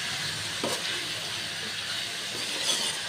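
Titari greens with turmeric and salt being stirred in a pan, giving a steady soft sizzle and hiss with a few faint scraping touches, close and without voices.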